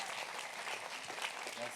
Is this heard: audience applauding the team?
yes